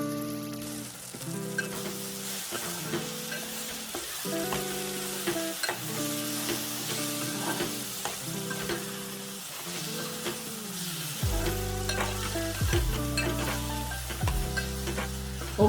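Drumstick tomato curry being stirred in a pan after salt and chili powder go in, with a steady soft sizzle under repeated scraping strokes of a spoon, close and continuous, with no talking.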